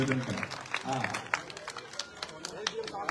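A gathering at a cow hospital in Nawalgarh claps, scattered distinct hand claps rising under people talking, faint and mixed with voices.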